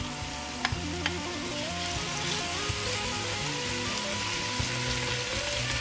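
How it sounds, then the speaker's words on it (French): Onion, garlic, a small chili and peppers fry in hot oil with a dense, even sizzle up close and a few faint clicks, continuous and with no talking. "Dans un peu d'huile bien chaude, je fais revenir un oignon émincé, de l'ail en purée, un petit piment, puis j'y rajoute les poivrons."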